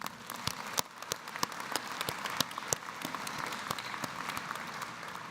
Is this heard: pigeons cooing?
no